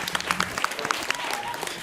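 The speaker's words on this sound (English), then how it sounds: "One more round of applause for Dizzy Jenkins and the crew" An audience at a Bomba night applauds Dizzy Jenkins and the crew, with steady, dense clapping from a modest crowd that holds at a moderate level throughout.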